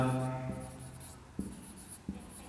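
Marker or chalk writing on a board during an accounting lesson, soft scratchy strokes with a few sharp taps, close and fairly faint, with a low hum at the start.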